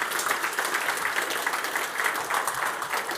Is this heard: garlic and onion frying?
no